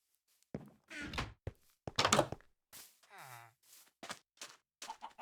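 A chicken in a blocky Minecraft-style survival game gives short, soft clucks mixed with a few dull thunks, scattered and quiet against near silence.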